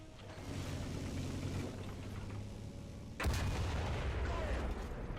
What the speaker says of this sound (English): Now let's test out the cannon real quick.